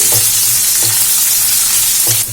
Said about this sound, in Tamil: வெங்காயத்தை போட்டுட்டு நல்லா வதக்கிடலாம்.